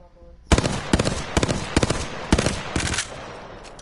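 Hemlock burst rifle firing in a video game, sharp shots in rapid three-round bursts, repeating about six times, loud and close with no talk over them.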